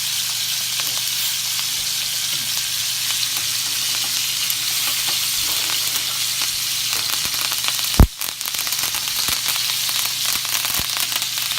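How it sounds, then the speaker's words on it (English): Garlic frying in butter in a pan makes a steady, even sizzle with fine crackling. One sharp knock sounds about two thirds of the way through. "now we're gonna add some butter to get a nice coat of the garlic. And make it really caramelized."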